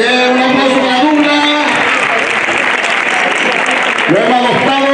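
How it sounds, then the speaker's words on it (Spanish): Crowd applause at a running race fills the clip, steady clapping from many hands with voices and cheers mixed in throughout. "Muy bien, un aplauso para Luna."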